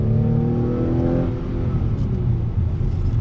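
A 2021 Acura TLX A-Spec sedan accelerating on throttle, its engine a steady, smooth, close rumble that holds at a constant level with no voices.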